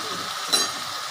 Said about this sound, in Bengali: জলটা গরম হয়ে গেছে দেখো ফুটছে জলটা